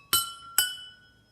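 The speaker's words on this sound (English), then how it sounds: "you can make a totally different song by changing the amount of level in your glasses" Two bright clinks ring out as drinking glasses filled with water are tapped, each strike sustaining a clear tone at a different pitch before fading in a quiet room.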